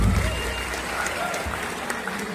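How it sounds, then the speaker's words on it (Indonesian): Audience applause at a comedy show with a keroncong band, a dense steady patter of clapping with some crowd noise throughout. "Tepuk tangan untuk keroncep."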